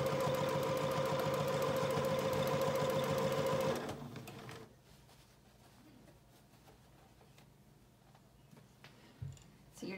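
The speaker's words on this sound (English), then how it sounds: "So you're just going to keep sewing" An electric sewing machine stitches fabric for a child's apron in a rapid, buzzing run for about four seconds, then stops, leaving quiet room tone with a faint bump near the end.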